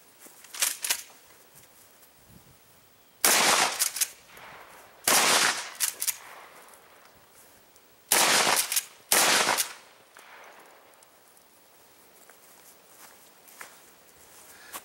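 A shotgun loaded with double-aught buckshot fires at rubber gong hangers, five loud blasts in uneven pairs and singles with pauses between, each with a short ringing tail outdoors.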